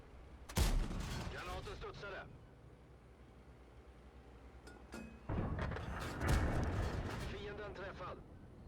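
Heavy cannon shots in a tank video game, fired at a T-95 from an STRV 103-B tank destroyer: two loud booming blasts about five seconds apart, each followed by a rumbling tail, with a quiet stretch between them.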